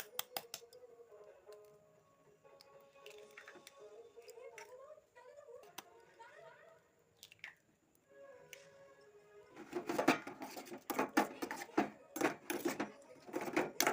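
Eggs mixed with chopped green chilli, salt, half a spoon of turmeric and chilli powder are whisked in a bowl for an omelette: scattered clicks at first, then a close, loud run of rapid rhythmic tapping in the second half.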